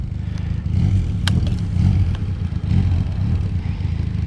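A KTM Duke 390 motorcycle being ridden, its engine giving a steady low rumble with slight rises and dips in revs, close and loud, with a few brief clatters over the top.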